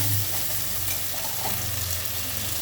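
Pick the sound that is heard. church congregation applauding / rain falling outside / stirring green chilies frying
stirring green chilies frying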